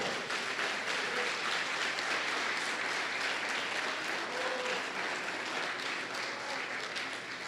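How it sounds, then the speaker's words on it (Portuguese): Sustained congregation applause during a church service, dense clapping from a large crowd, steady and loud across the whole stretch with a faint murmur of voices beneath. "Aplauda mesmo ao Senhor."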